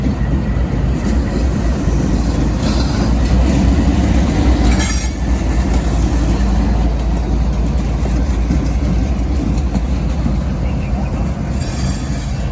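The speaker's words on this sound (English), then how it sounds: "Two locomotives running back to back." Two locomotives running back to back on a rail shuttle job rumble steadily past with a loud, continuous drone of engines and wheels, and faint wheel squeal rising briefly.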